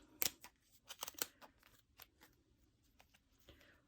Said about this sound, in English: put the scissors against this channel and cut all the way around